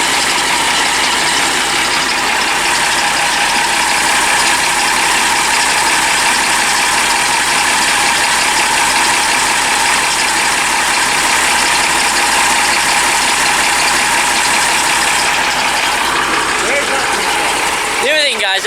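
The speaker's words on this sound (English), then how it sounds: "At the moment, we're letting it idle up to temperature" A project engine idles steadily as it warms up, giving a loud, continuous mechanical drone close by with an even rhythm that barely changes over the whole stretch.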